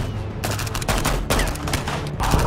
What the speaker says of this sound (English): there was a hail of gunfire from our left and at our 12